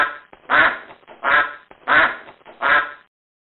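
A cartoon duck quacks in a baby first-words mobile game, four loud, evenly spaced quacks in close succession with no talk over them.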